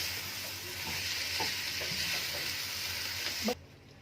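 Meat and olives frying in a pan, a steady close sizzle with a few soft scrapes of stirring, ending abruptly as the heat is cut.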